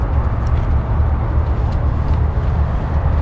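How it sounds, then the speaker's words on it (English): Road traffic from nearby Highway 322 beside a park trail in Harrisburg, Pennsylvania: a continuous low rumble and hiss of passing vehicles, steady and moderately loud, with no talking. "322 is right over there. It's a source of a lot of our road noise"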